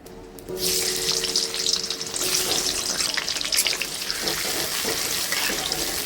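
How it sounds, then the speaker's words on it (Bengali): Potatoes frying in oil in a wok (kadai) during home cooking of a pumpkin dhoka dalna, giving a steady, close broadband sizzle that runs throughout with faint clinks. "এখানে আমি কড়ায় আলুটা ভেজে নিচ্ছি"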